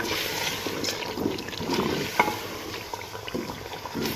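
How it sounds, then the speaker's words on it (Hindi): Spices and chilli sizzle in hot oil for chicken karahi while being stirred, a steady close frying hiss with occasional scraping of the spoon. "तो अब हम इन मसालों को अच्छे से भून लेंगे, इसका प्यारा सा कलर आ जाए।"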